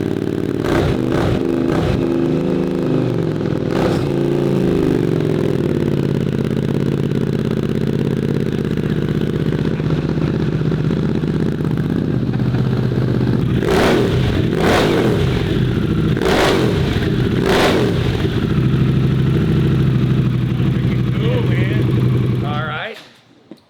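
A custom one-off Harley-Davidson Pan America motorcycle fires up and idles with a loud, close engine rumble. Several sharp throttle blips rise out of the idle before the engine cuts off, and people talk over it.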